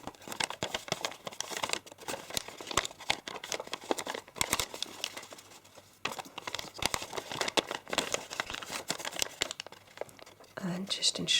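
Sheet paper is folded and creased over and over, a dense run of crisp crinkles, rustles and sharp creasing snaps heard up close, with a voice murmuring underneath at times.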